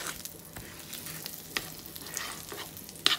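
Garlic sizzles steadily in a frying pan, with a brief stir or clink of a utensil near the end.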